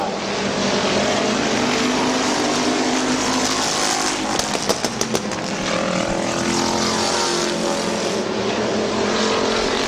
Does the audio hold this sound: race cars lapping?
yes